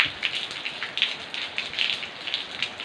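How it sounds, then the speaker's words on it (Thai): Rain falls steadily in front of a house in Surin, with gutters running around the building, making a dense, even hiss of drops pattering on surfaces nearby with no voices. "ฝนตก อันนี้ฝั่งหน้าบ้านนะครับก็จะเห็นว่าฝนก็ตก"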